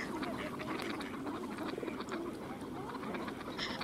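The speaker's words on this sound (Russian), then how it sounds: "а утки в ожидании булочки караулили на снегу" Ducks quack repeatedly in a steady, busy chorus, with a wash of outdoor noise underneath, wintering on snow beside a shrinking patch of open water in Tsarskoye Selo.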